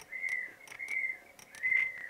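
Whistling sound effect in the video game Survivalcraft: three bright, steady whistled tones in a row, each slightly rising then holding, fairly soft and clear with no talking over them.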